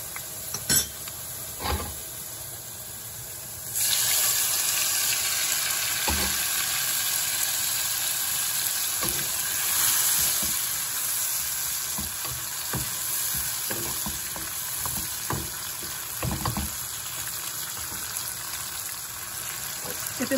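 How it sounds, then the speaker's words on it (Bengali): Potato pieces frying in oil in a pan as spices are added, a steady sizzle that swells after a few seconds, broken by scattered clicks and scrapes of stirring, close up with no talk. "আলুগুলো আমার ভাজা হয়ে গেছে, আমি এখন এর মধ্যে মশলাটা দিয়ে দিচ্ছি"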